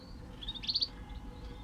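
A small female pet bird, held during handling, gives a short burst of three or four high, thin chirps close by, then falls quiet against a low background hum.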